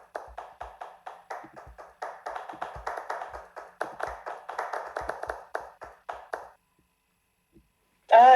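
A church congregation claps together in a steady, even rhythm of quick beats for about six seconds. The clapping then stops, followed by silence and a short loud burst at the very end.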